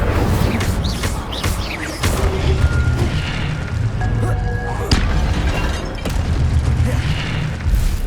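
Incendio fire spell cast in Hogwarts Legacy on PS5, heard as repeated deep booming blasts and whooshes over continuous game music and effects, loud and dense throughout.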